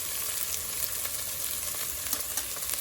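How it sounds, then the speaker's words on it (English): Turmeric and red chili powder sizzle in hot oil for a Punjabi matar paneer, a steady close crackling fry with scattered sharper pops and no talking. "I'm going to put some turmeric powder in the oil itself, and I'm going to put red chili powder also."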